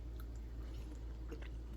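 Someone chews a bite of clam pizza with red sauce, giving soft, close, moist chewing sounds over a low hum.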